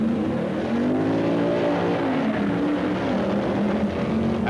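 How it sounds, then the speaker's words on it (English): Drag race cars at the 1965 AHRA Winternationals at Bee Line Dragway, Arizona, roar loudly down the strip, a sustained engine blare with rising and falling pitch throughout. "And Fauble leads the length of the strip"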